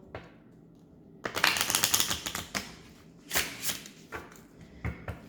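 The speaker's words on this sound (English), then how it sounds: "one more shuffle" Crisp riffling of tarot cards being shuffled in short bursts, close up, with pauses between shuffles.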